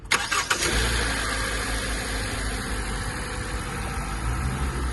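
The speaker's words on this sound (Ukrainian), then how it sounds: "Кирило, завести автомобіль." A cold 2017 Kia Sportage engine starting: a brief cranking burst at the start catches, then settles straight into a steady, close, fairly loud idle.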